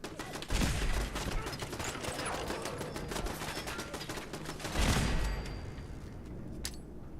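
A turret in Fallout 4 with the Sim Settlements 2 mod lets off loud, rapid bursts of automatic gunfire. A dense rattle runs on through most of the clip and surges again near the end, with no voices.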